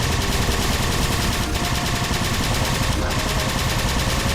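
Rapid automatic machine gun fire in the video game Halo 4, a loud, continuous stream of tightly spaced shots with two brief breaks, heard alone.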